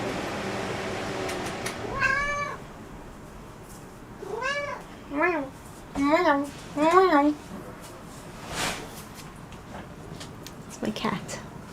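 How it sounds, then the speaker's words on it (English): A pet cat meows several times indoors, a string of distinct, fairly close cries with short gaps between them; a fan has just been switched off and the room is otherwise quiet. "It's my cat."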